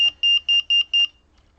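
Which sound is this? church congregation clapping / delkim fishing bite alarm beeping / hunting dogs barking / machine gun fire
delkim fishing bite alarm beeping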